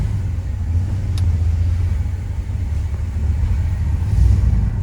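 A 1964 Chevrolet Impala with a 283 V8 runs steadily on a cruise, its deep low engine rumble constant and close, with a slight swell near the end and no talking.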